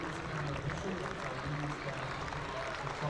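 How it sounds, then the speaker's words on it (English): A crowd at an athletics championships cheers and claps steadily for an 800 metre runner in the final stretch, a continuous dense roar with a voice calling out over it. "Let's cheer on Kiri from Cranbourne."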